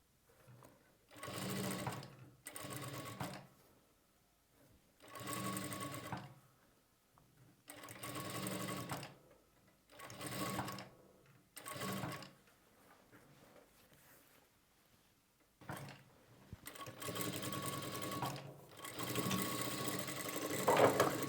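A sewing machine stitches piping onto fabric in short, steady runs of rapid mechanical whirring broken by quiet pauses, close and clear, with no talk over it.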